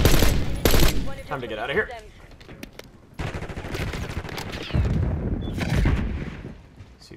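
Burst-fire gun shooting in Call of Duty: Black Ops 6, with loud rapid bursts of gunfire, close and punchy, followed by more scattered shots and battle noise while someone talks.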